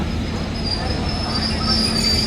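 A train runs through Hajipur railway station, a loud, continuous rumble of rolling wheels with a sustained high metallic squeal over it and no pauses.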